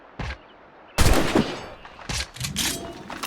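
Gunfire in the video game Assassin's Creed Rogue: a brief shot, then a loud burst of several overlapping blasts, followed by two more separate bursts, all fairly close and sharp with no talk.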